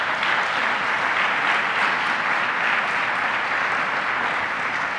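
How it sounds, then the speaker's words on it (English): Steady, dense applause from an audience at a government child care announcement in New York, continuous and even for several seconds with no speech over it. "So let's give them a round of applause."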